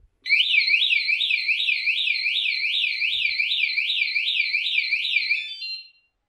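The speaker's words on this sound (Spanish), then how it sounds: "si pones la alarma, hace un aviso sonoro" A piercing electronic anti-theft alarm on an electric scooter wails continuously with a rapid warbling pitch for about five seconds, loud and close, then cuts off.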